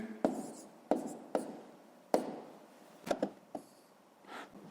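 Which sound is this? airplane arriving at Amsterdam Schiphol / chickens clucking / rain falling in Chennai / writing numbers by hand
writing numbers by hand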